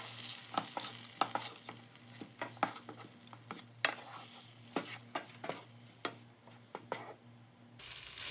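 Lamb loin chops sear in a pan, a low steady sizzle broken by irregular clinks and taps of a utensil against the pan, with a faint hum underneath and no voices.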